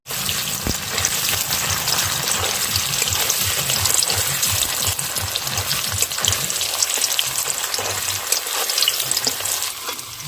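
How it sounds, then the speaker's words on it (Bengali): Steady, loud sizzling of paneer frying in hot oil in a wok, with occasional stirring clinks and no talking. "এই কড়ার মধ্যেই পনিরটা ভেজে নেব।"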